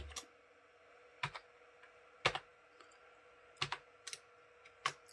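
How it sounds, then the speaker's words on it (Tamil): Someone types a captcha code on a computer keyboard. A few quiet, separated clusters of key clicks come at an irregular pace over a low background hiss. "அதை வந்து கரெக்டாக டைப் பண்ணிக்கோங்க"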